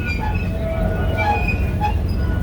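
A train rolls past at a family farm's heritage railway, a steady low rumble with faint squeals and metallic tones from the wheels and cars.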